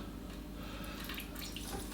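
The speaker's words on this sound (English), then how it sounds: "So we're going to pour this. It's warm water." Warm tap water poured from a jug into a baking dish around ramekins, a faint steady trickling stream with soft splashing throughout.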